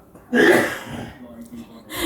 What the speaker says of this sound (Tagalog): bumahing si Lolo, nagkakapi kasi